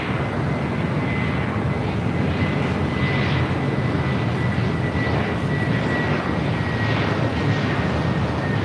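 A fixed-wing airliner arriving at LAX rumbles steadily at a distance, a broad continuous engine roar with a faint high whine, holding even for the whole stretch with no voices.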